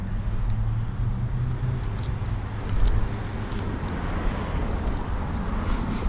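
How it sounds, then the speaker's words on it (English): A car speeds past on a road over steady wind noise, a low rumble that swells briefly near the middle and then fades. "Dang, that car was flying."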